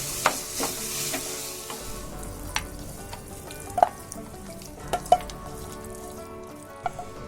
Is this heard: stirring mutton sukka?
yes